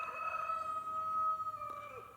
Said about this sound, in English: if you heard that, that's Larry the rooster